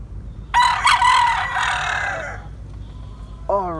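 A brood cock rooster lets out a loud, close crow that trails off, followed by a short clucking call at the end.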